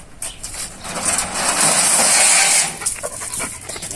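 A newly brought-home dog pants close by, a rapid breathy rhythm that swells in the middle and settles again, with some whimpering.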